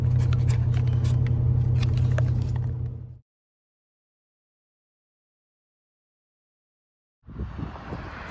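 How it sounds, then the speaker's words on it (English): A Landau car with a 305 engine driving, steady low engine rumble and road noise from inside the cab for about three seconds, then a cut to silence before the drone resumes. "Man, I love driving this car."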